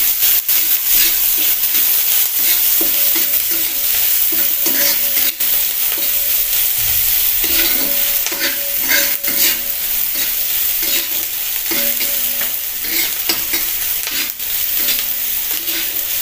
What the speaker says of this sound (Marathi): कांदा आणि मिरची परतायची.